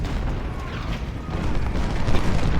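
Distant artillery booms and cannon fire roll through a Civil War battle in Ultimate General: Civil War at Chancellorsville, a dense continuous low rumble with scattered thuds rising slightly in the second half.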